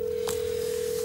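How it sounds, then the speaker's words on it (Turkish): A telephone rings and nobody answers, giving a steady electronic tone that holds at an even level throughout with no voices. "Çalıyor ama cevap yok."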